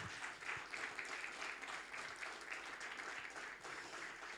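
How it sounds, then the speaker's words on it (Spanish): A church congregation at an evening service claps in steady applause for a few seconds, fairly faint and distant, without talk over it. "Denle un fuerte aplauso al Señor en esta noche"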